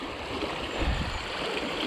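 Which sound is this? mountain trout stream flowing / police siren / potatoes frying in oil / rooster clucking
mountain trout stream flowing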